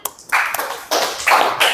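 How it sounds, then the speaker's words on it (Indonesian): Classroom applause for a student named Noval, several bursts of clapping from a group, close and fairly loud, with short pauses between. "tepuk tangan untuk Noval"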